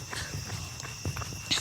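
A runner's footsteps on an outdoor route fall in a steady, fairly quiet rhythm close by, with a faint, constant high insect-like hum in the background.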